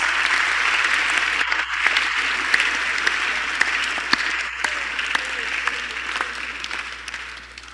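A church congregation in Memphis applauds during a sermon, a continuous spread of clapping with sharper individual claps popping out, while a voice speaks over it.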